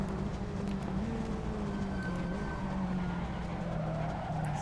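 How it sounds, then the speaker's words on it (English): A Fiat touring car laps Laguna Seca in a racing game, its engine droning steadily with faint tire squeal as the rear wheel locks under braking. "Still locking up that rear tire, so I gotta be careful down into the corkscrew"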